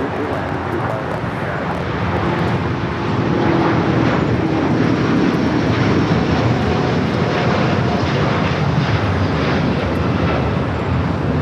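United Airbus A320 landing at LAX, a loud jet roar that builds around three seconds in and holds steady and close, with radio-style talk underneath.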